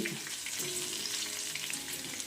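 Chilli bhaji, made from freshly chopped green chillies in batter, frying in hot oil: a steady, close crackling sizzle that holds evenly throughout with no voices.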